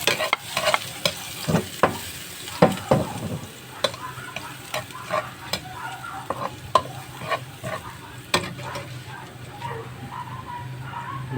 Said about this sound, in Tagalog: Gisa lang natin yung bawang.